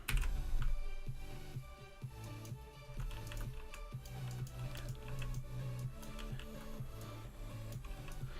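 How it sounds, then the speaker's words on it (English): Rapid keystrokes on a computer keyboard during graphic design work on a T-shirt, typed forcefully. Steady, close clicking runs throughout over a low, droning background. "if I'm being a little too violent with the keyboard here and it's coming back through the mic"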